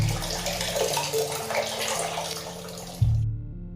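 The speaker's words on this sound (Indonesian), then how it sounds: "hingga suara air keran yang nyala sendiri" Water tap running, a steady rushing stream of water with tonal musical hum beneath, cutting off abruptly near the end.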